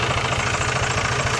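An old Ford tractor idles on a farm in Portugal, its engine throbbing with a steady, rapid low beat, loud and close, with no talk over it.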